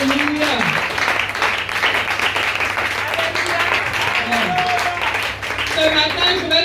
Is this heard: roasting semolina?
no